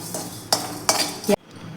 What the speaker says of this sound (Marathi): त्यामध्ये आपण धने आणि जिरे थोडेसे आपण हलकेसे भाजून घेणार आहोत